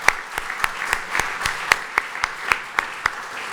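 Applause in a newly inaugurated hall, heard as a thin, sparse run of distinct claps at a fairly regular pace, only a few hands, moderately close and without voices.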